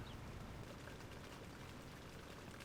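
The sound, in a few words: rain falling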